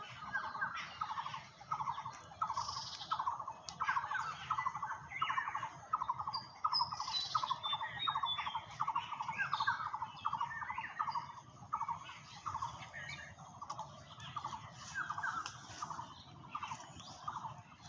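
Birds call over and over in quick repeated notes on a foggy morning, several overlapping at a moderate distance, with fainter chirps in the background.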